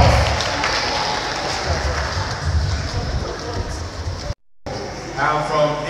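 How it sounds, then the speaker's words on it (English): A youth gathering audience claps in a dense, even patter that carries on for several seconds, cuts out briefly, then resumes. "Let's a round of applause for the brother."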